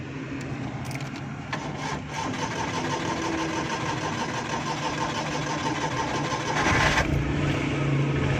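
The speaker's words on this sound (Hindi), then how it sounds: "अब हम गाड़ी को स्टार्ट करेंगे।" A CNG-converted car engine cranks and catches, then settles into a steady mid-pitched idle that runs on loud and close for several seconds with a slight surge near the end.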